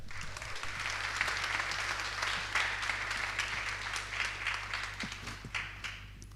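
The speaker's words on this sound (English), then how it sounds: "A round of applause" Quiet, steady applause from the audience at a European venture capital conference panel, an even patter of many hands over a low hum, continuing throughout with no speech.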